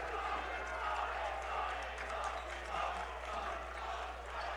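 Rowdy home crowd in a college basketball gym at a conference quarterfinal, a steady roar of voices and shouts filling the space beneath a commentator's continuous play-by-play.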